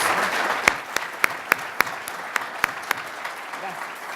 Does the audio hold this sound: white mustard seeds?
no